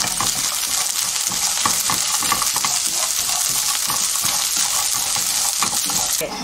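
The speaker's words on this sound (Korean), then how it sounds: "후라이팬에다가 불을 켜시고요. 식용유를 한 스푼 정도만 넣어주겠습니다. 호두를 넣어줍니다." Walnuts stir-fried in a spoonful of cooking oil in a frying pan, a steady loud sizzle with rapid rhythmic scraping and clattering of the nuts being stirred, close and continuous with no talk.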